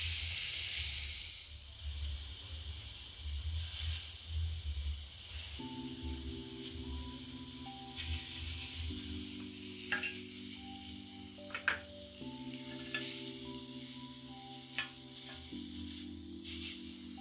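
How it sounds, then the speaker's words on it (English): Skewers fry in a pan with a steady, soft sizzle and hiss that runs throughout, while faint music plays in the background and occasional light clinks sound. "I have some more in my pan cooking"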